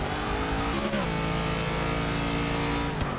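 Trans Am race cars lapping in the Forza 6 racing game, engines roaring loudly and steadily with a shift in pitch as one car passes another, no talking.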